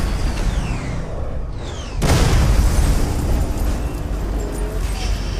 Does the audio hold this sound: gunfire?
yes